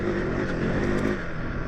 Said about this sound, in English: once you start revving it, boy,